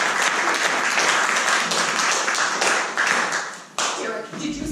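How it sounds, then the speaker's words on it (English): Audience applause at a live comedy show, a loud, dense burst of clapping close by, thinning slightly toward the end, with faint voices mixed in. "Give them a round of applause."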